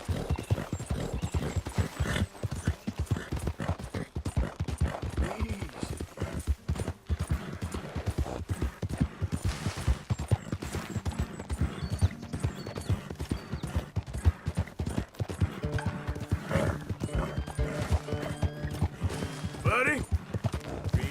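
Horse hooves clip-clop steadily and continuously in Red Dead Redemption 2, a close, rhythmic trot with faint creaks of tack and gear, while a voice speaks intermittently over the hoofbeats.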